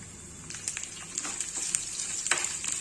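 Curry leaves and garlic crackle in hot oil in a pan for tomato pickle, a steady close sizzle with a few sharp pops, no voices.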